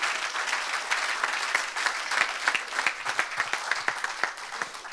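An audience at a French-language evangelical church service applauds and cheers, with dense, sustained clapping that builds and stays loud, sharp individual claps standing out near the end.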